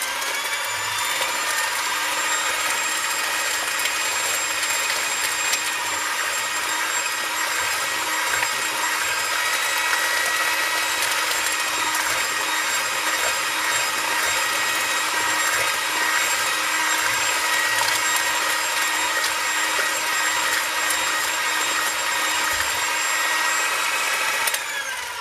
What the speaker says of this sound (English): And we continue with the hand mixer